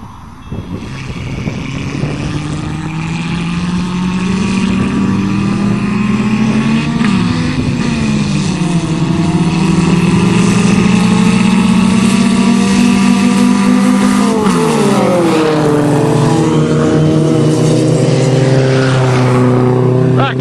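Five imported tuner cars with manual transmissions race together, their engines droning loud and steady throughout, pitch shifting as gears change and revs rise and fall.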